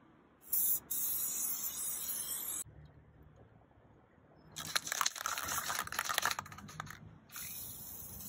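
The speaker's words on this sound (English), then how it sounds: "Silicone spray, get now." A hissing silicone aerosol spray on a bicycle in several bursts, first a short one, then a longer sustained spray with sputtering, then another brief burst.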